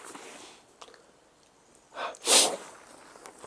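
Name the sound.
suppressed sneeze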